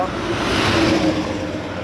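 Road traffic roars past in a dense, continuous rumble of car engines, close and loud.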